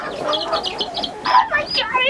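A silkie chicken inside a warm coop during an ice storm makes short, close clucking and chirping calls in quick bursts.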